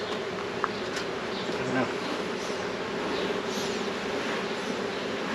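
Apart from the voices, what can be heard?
honey bees buzzing around a hive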